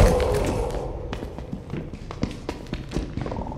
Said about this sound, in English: I can hear another one running at me